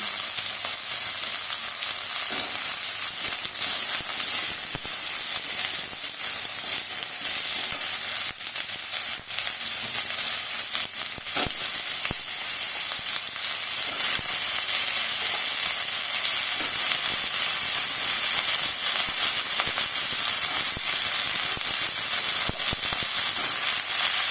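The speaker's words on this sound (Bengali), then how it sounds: "এবার নাড়াচাড়া দিয়ে আমি এই আলু আর বিটটাকে দিয়ে দেবো।" Potato and beetroot fry in a hot pan with a loud, continuous sizzle and hiss, broken by occasional faint stirring clicks.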